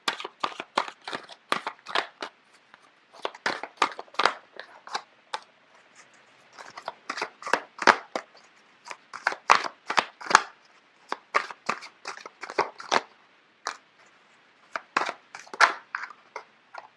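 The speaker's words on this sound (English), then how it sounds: "I don't know why the cards are just flipping left and right." Tarot cards are shuffled and flipped close up in quick, crisp bursts of riffling and snapping, coming in irregular clusters separated by brief quiet gaps.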